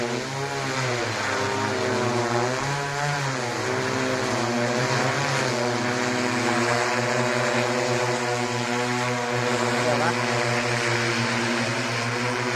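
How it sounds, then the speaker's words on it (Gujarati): An agricultural spraying drone flies over a mango orchard on a farm, giving a loud, steady propeller whine with layered rotor harmonics that holds unbroken throughout, close by and with no talk. "તો જો ડ્રોન ઉડ્યું છે"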